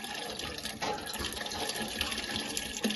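Tap water runs and splashes steadily into a container as it fills, a continuous close hiss with small gurgles and drips throughout.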